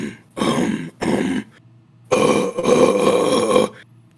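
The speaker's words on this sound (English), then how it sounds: "What I do to warm up, I do the false chord isolation." False chord vocal distortion warm-up for screaming: four gritty, raspy bursts of throat distortion, two short and two longer, each separated by brief silence.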